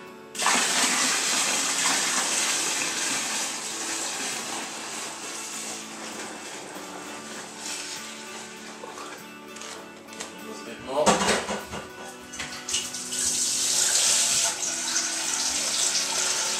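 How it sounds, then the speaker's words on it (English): Cold tap water gushes steadily into a homebrew IPA fermenter being topped up to 20 litres, a continuous splashing flow with a brief clunk partway through and a voice speaking over it. "I'm going to add some cold water for my height. Give it a bit of aeration up to 20 litres."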